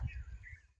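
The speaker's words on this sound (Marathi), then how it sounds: "एकदम पक्ष्यांचा गोंगाट कसा तुम्हाला ऐकू येत असेल" Faint birds chirp over a low background rumble in the Konkan countryside in June, a couple of thin high calls in a brief moment.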